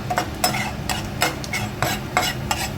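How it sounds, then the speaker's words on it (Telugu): A tempering of urad dal, chana dal and mustard seeds fries in oil while being stirred, with rhythmic scraping strokes of a spoon against the pan repeating every half second over a soft sizzle. "పోపు వేయించుకున్నామండి"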